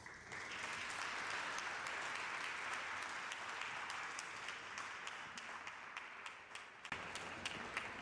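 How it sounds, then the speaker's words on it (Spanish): Audience applause at a conference on judicial reform in Culiacán, a steady wash of many hands clapping that holds for several seconds and tapers slightly near the end, with a few sharper claps standing out. "Recibamos, por favor, con un fuerte aplauso."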